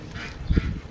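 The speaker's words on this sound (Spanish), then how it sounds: "ya me escucharon los patos" Ducks quack at close range while being fed, a short burst of low, throaty calls peaking midway through a brief moment.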